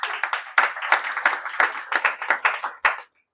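A small indoor audience at a property event claps for the host, producing a burst of distinct, slightly uneven hand claps, close and fairly loud, that lasts about three seconds before stopping sharply.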